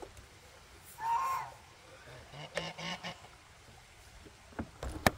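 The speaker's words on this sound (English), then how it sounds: "Ducks all over." Ducks call outdoors with a few nasal quacks and honks, the clearest one loud and near, followed by scattered softer calls against quiet background noise.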